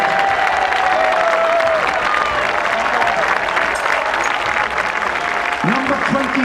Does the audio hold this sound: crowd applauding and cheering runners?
yes